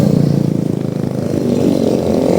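A motorcycle on a steep uphill road to waterfalls in Cebu, heard as a steady, fairly loud engine drone with a throbbing low rumble, running close by and without a break.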